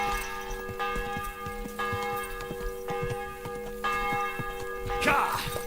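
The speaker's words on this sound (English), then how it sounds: "God, those bells are loud." Church bells ring loudly in repeated, overlapping peals, with a sustained metallic hum between strikes, in the game Kingdom Come: Deliverance II.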